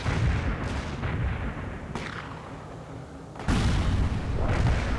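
Mortar fire in the video game World in Conflict: heavy booming launches and blasts overlap in a dense, loud barrage, with sharp new impacts landing around two and three and a half seconds in.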